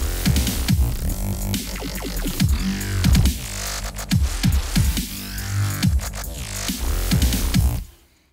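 A heavy dubstep drop made in Logic Pro X, with growling, wobbling sidechained bass and pitch sweeps, loud and dense throughout, pumping rhythmically before cutting off abruptly at the end.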